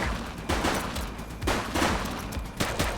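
Shootout in the police action game The Precinct, with dense overlapping gunfire bursts crackling throughout, loud and close, several sharper volleys standing out amid a continuous clatter of shots.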